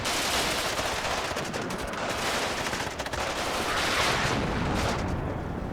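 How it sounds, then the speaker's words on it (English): Artillery fires at short range in the WARNO war game, a dense, continuous barrage of overlapping booms and gunfire rumbling without pause, loud and close. "we fire this artillery at short range"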